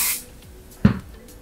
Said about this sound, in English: I'm going to spray 505 spray all around the edge of my